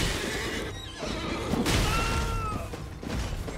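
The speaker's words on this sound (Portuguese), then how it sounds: "O cavalo dele dá uma ombrada." A horse whinnies in the Elden Ring video game, a loud shrill neigh rising over rumbling hoofbeats and battle noise, with no talking.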